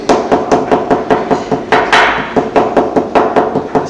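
A hammer pounds papyrus stalks to squeeze out water during a papyrus-making demonstration, a loud, steady run of close, dull thuds, about four blows per second, with no talk over them.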